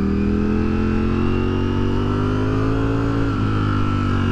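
A Ducati V4S Streetfighter Dark Stealth motorcycle engine drones loud and close as the bike rides along, its pitch climbing steadily under acceleration with a brief dip near the end.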